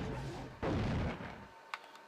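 A grenade blast in the video game The Thing: one loud, broad boom that rolls out for about a second, followed by a short sharp crack and fading rumble.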